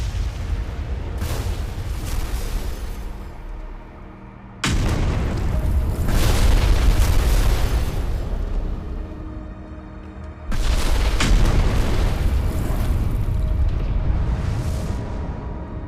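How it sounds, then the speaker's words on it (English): A young planet colliding with Earth at 16 kilometers per second, rendered as a series of massive, loud booming impacts: three heavy, rumbling blasts, each followed by a sustained roar that slowly fades. "This young planet collided with Earth with the speed of 16 kilometers per second."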